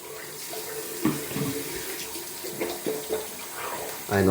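Tap water runs steadily into a sink while shaving soap is lathered, with brief splashes and clinks from the bowl and brush over the flowing stream, close and moderately loud.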